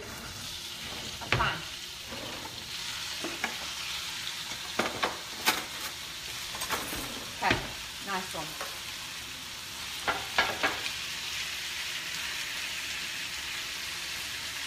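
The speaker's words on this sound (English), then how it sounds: "So we're going to add those four breasts of chicken to" Four chicken breasts fry in a pan for a healthy chicken curry, a constant soft sizzle broken by sharp stirring scrapes and clacks, with a brief spoken remark.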